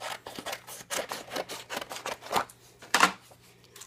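Scissors trimming a small piece of paper for a Sizzix die-cutting project: a run of quick, close snips in steady rhythm, with one louder cut near the end and no talking.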